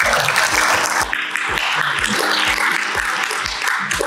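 An audience at an academic advertising society colloquium applauds a research award recipient, dense sustained clapping from a crowd filling the whole stretch at steady loudness.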